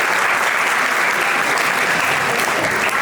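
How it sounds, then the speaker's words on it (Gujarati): Loud, sustained applause from an audience at a school maths seminar at Undel High School, a dense, steady clatter of many hands clapping nearby without letup. "એક વખત જોરદાર તાળીઓ આપણે પાડશું"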